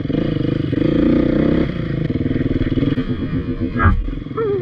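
A Beta 350 dirt motorcycle revs hard while climbing a hill at a 2019 demo day, its engine note close and loud, rising and falling with throttle blips and rattling over rough ground.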